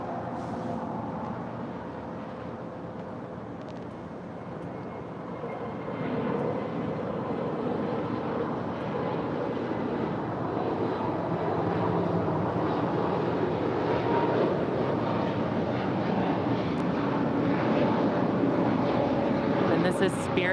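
Spirit Airlines A320neo departing LAX, a distant jet engine rumble that builds gradually over twenty seconds, with a voice talking over it.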